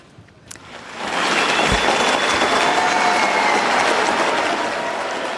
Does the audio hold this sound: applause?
yes